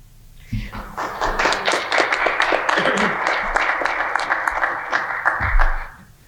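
A small audience at a community board meeting applauds staff, scattered individual claps building into a steady, moderately loud round that holds for several seconds before fading out, with a few thuds mixed in.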